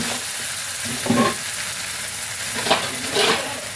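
Spices frying in oil for a gooseberry pickle, made with chilli powder, turmeric and salt, a steady close sizzle with a few soft stirring bursts and no talk.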